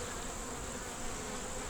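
Honeybees in a nuc hive buzz in a dense, steady drone close by, with no other sounds.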